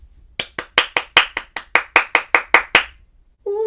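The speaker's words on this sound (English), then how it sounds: "I'm going to clap four fruits and you tell me what fruits I'm clapping." A single person's hands clap a rhythm pattern in a music lesson, about a dozen sharp, close claps in an uneven beat with brief gaps, followed by the start of a voice.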